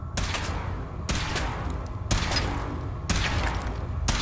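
Weapon fire in the video game Fallout 4: a few heavy, booming gunshot bursts roughly a second apart, each with a long rumbling tail, loud and close with no talk.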